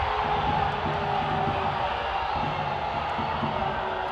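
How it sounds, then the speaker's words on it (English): Stadium crowd at a professional women's soccer match, Orlando against Utah, reacting to a player collision: a steady, dense roar of many voices, loud and continuous throughout. "Hearing it from the crowd right now."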